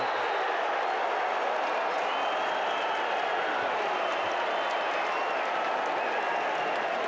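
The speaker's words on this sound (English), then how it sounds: "You hear the huge cheer." A large crowd at a 2015 high school state wrestling final in Illinois cheers and applauds, a steady, washed-out roar heard from some distance that holds for several seconds.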